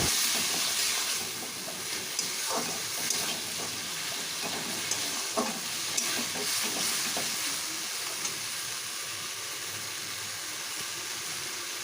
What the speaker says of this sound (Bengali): দিয়ে একসাথে আমি এটা কষাতে থাকবো